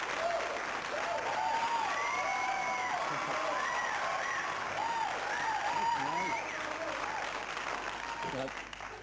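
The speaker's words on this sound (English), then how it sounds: "That's almost as much applause as Martin Stevenson got there." A television studio audience applauds a guest's entrance on a 1987 talk show, with sustained, dense clapping and scattered whoops and cheers, a host's voice speaking over it toward the end.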